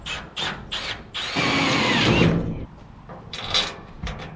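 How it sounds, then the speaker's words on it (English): Several short bursts from a power drill boring holes for a trailer rock shield, one longer whining run in the middle, each spin-up sharp and close with brief pauses between. "I'm gonna set up and start getting these things drilled out"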